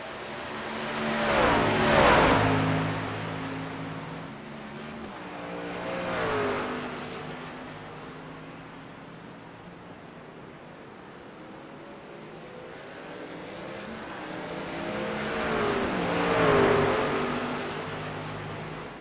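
Racing trucks in a truck series race at the Charlotte Roval roar past with engines revving. Loud passes come in waves, rising, fading to a distant drone, then returning close again, with no talking.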